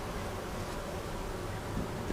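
A steady, dense buzz of many honeybees from a fallen colony in a swarm trap hums without a break, a soft swarm sound with no voices.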